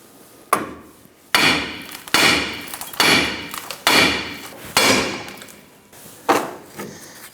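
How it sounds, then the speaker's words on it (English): Seven sharp metal-on-metal hammer blows strike the top of a 1997-2006 Jeep Wrangler front steering knuckle, spaced unevenly about a second apart, close and ringing briefly after each hit. "we're going to use a hammer and we're going to strike the top of the knuckle"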